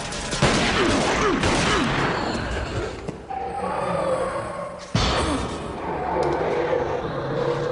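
Gunfire in a TV drama scene: loud, dense bursts of shots with sharp onsets and a strong crack near the middle, amid a noisy action soundtrack.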